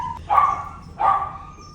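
Two loud barks from a dog shut in a ferry kennel, the first at about a quarter second and the second near one second, with quiet between them.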